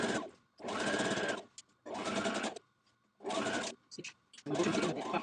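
A domestic sewing machine stitches a dress seam in four steady bursts of rapid mechanical whirring, separated by short pauses with faint handling clicks.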